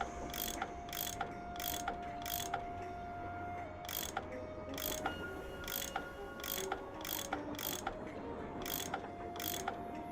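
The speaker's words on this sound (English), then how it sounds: "I bet that's what you use to unscrew these bolts" A tool unscrewing bolts in the Nancy Drew game Last Train to Blue Moon Canyon, a steady run of sharp ratcheting clicks at an even rhythm over a low mechanical hum, close and alone.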